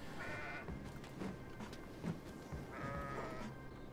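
Goats bleat in the video game Kenshi during a group fight, with several wavering bleats rising over steady background combat noise.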